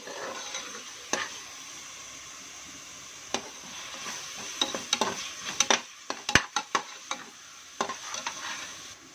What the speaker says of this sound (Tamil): அதையும் நல்லா எண்ணெயில் போட்டு வதக்கலாம். நல்லா பொன்னிறமாக வரட்டும்